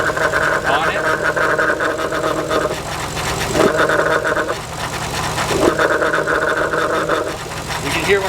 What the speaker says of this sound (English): You can hear when I come off and on, the noise gets very loud.